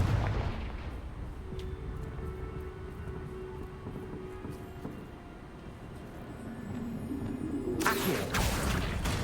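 A Confringo blasting spell goes off in the Hogwarts Legacy video game, a deep booming explosion rumbling under a dense, noisy game soundscape, with a second sharp burst near the end.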